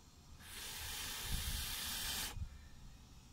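An air blower pushes a steady hissing rush of air through a KIMO handheld air flow anemometer for about two seconds, starting and stopping abruptly, with a low rumble beneath and no talking.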